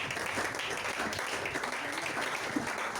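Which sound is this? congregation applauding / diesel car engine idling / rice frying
congregation applauding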